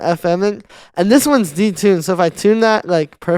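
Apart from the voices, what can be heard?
No distinct noise like a dog, phone or traffic.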